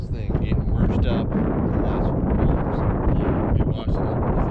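Strong wind buffets the microphone outdoors after rain, a loud continuous low rumble with gusty surges throughout, while voices are heard faintly in the background.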